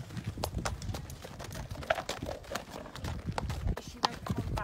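A horse's hooves clip-clop steadily on a hard surface, a run of sharp, fairly close knocks in a loose walking rhythm, with a low background rumble underneath.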